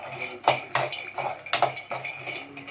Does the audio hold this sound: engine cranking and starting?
no